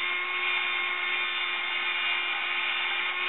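Steady, loud whine of a cheap $2 12-volt motor driving a 3D printer broom arm, a constant buzzing drone with a fixed tonal hum that holds unbroken throughout, close to the microphone with no talking.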